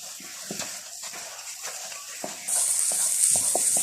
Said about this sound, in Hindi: अब इसके अंदर आखिर में मैं नारियल ऐड करूँगी। अच्छे तरीके से इसको मिक्स कर लूँगी।